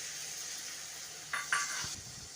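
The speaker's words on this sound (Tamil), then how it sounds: "நல்லா தக்காளி பச்சை வாசனை போகிற அளவுக்கு வதக்கிக்கோங்க." Tomato sautéing in a pan for a Tamil mushroom gravy, a steady soft sizzle with a couple of brief utensil scrapes and clinks of stirring near the middle.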